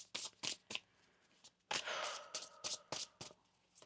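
Tarot cards being shuffled in quick riffling bursts, separated by short pauses, close by and fairly quiet, with no talking.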